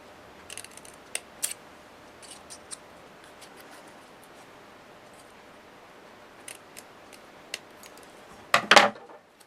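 Scissors snip the corner of patterned scrapbook paper for a G45 Olde Curiosity Shoppe photo mini album, a few faint clicks early on and a sharp louder cut near the end in a quiet room.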